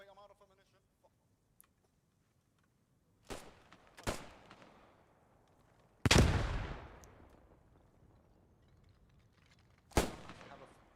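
Sniper rifle gunfire in the World War II shooter Post Scriptum: five separate sharp cracks spaced a few seconds apart, one far louder and closer with a long rumbling tail, over a quiet background.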